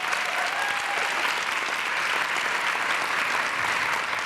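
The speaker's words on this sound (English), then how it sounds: "Can we give her a round of applause?" Audience at an NAACP leadership session opening applauding, a steady dense wash of clapping from a large crowd sustained throughout.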